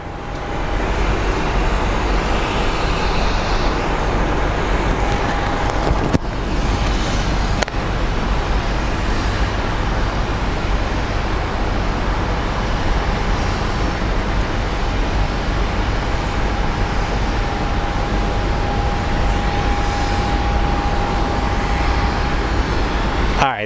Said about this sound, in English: So we hear the jet bridge noise, which means they're off to an adventure.